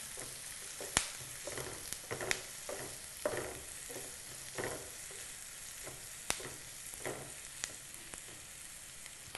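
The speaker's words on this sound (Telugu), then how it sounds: "కరివేపాకు వేసి బాగా కలపాలి" Curry leaves stirred into prawns frying in a pan for masala prawns, with a steady sizzle broken by repeated scraping stir strokes and sharp utensil taps, close and without talk.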